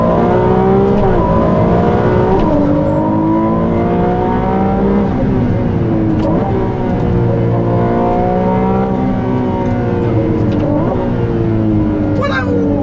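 A Ferrari 296 GTB turbo V6 hybrid accelerates repeatedly from inside the car, its loud engine note climbing through the gears with several quick shifts and a brief high sweep near the end.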